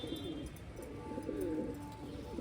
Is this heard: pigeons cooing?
yes